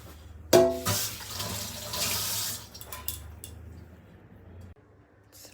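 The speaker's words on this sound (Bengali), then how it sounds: "তাই বাসনটা ধুয়ে নিই ফটাফট" Tap water running into a sink while dishes are washed, a close, uneven splashing that swells and fades over several seconds, with faint clinks of utensils.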